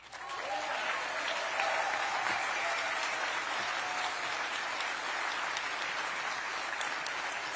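Sustained audience applause for county party chairs at a Maine Democratic Party convention choosing a new US Senate candidate, steady and dense throughout with crowd noise and a faint voice near the start.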